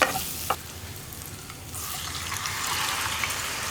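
Egg kurma masala is stirred in a pan at close range, a continuous soft sizzle and scraping swirl that grows a little denser toward the end, with no talking.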